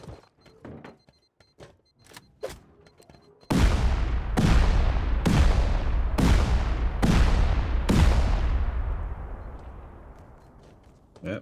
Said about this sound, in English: Trio bombing the floor below as well.